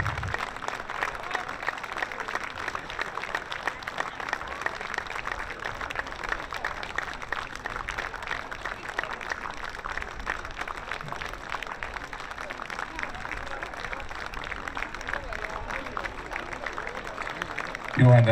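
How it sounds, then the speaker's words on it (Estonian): Sustained audience applause at an outdoor senior summer festival in Kehtna, steady dense clapping from a crowd at moderate distance, continuing without pause. "aplaus ei rauge"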